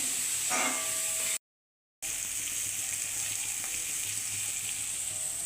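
Green peas frying in a pan with other vegetables, giving a steady close sizzle and hiss, briefly cut to silence partway through, with a few faint stirring clinks.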